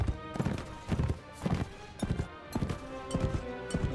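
Hooves of a ridden horse in Mount & Blade With Fire and Sword, a steady rhythmic clip-clop of paired hoof strikes at a trot, close and moderately loud, with no talk.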